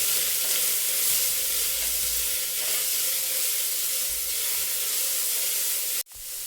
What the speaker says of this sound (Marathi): हा नारळाचा किस खोवलेला, हे आपण सर्व परतून घेऊया